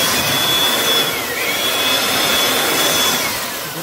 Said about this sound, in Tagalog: meron tayong ano eh, portable na blower